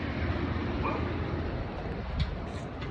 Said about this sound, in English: Y'all hear that dog?